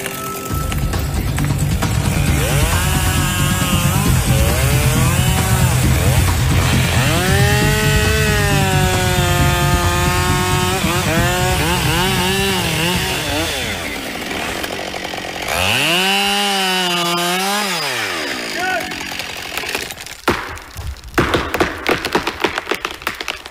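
A Husqvarna 572 XP chainsaw cutting through tough wood on a tree in Siberia, loud and close, its engine revving and bogging with rising and falling pitch through the cut, then idling down before short knocks and rattles.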